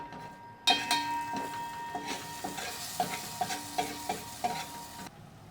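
Spice mix for stuffed vegetables is stirred in a pan, with steady rhythmic scraping strokes that sit close and clear over a soft sizzle. No one speaks.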